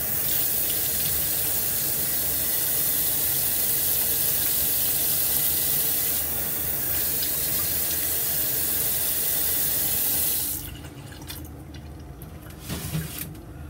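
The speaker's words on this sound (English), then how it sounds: "I'll do a cold water rinse." A tap runs steadily with a broad hiss of cold rinse water after a shave for about ten seconds, then shuts off, leaving faint drips and small handling sounds.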